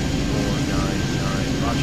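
An airliner in the Airport Madness 3D game at Miami roars down the runway on takeoff with a continuous loud engine drone, while a voice talks over it.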